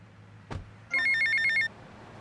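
Payphone in GTA Vice City gives a single short electronic ringing burst after a brief click, loud, clear and close, with nothing else around it.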